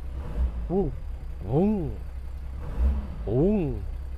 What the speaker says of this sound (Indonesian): suara mesin diesel 4000 cc itu berbeda dengan suara mesin diesel 2500 cc ya teman-teman